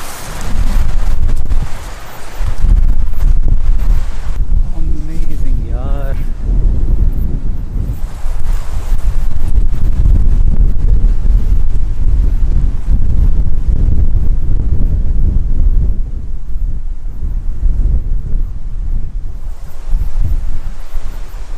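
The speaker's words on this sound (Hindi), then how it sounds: "हवा काफ़ी तेज़ है और पेड़ भी बहुत तेज़ हिल रहे हैं" Strong wind buffets the microphone at a canyon viewpoint above a river in Serbia, a continuous heavy low rumble with gusty surges throughout, with a brief faint voice early on.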